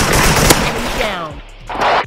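Gunfire from an AK rifle in the Special Force Online video game, a sharp loud shot burst near the start followed by dense rapid rattle and echoing tail, with game voices and effects mixed in.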